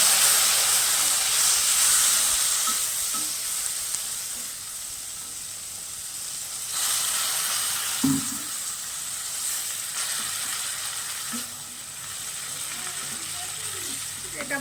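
Frying masala for a dhaba-style egg tarka sizzles with a loud, steady hiss as water is added, a continuous bright crackle close up that swells briefly midway, with occasional stirring knocks.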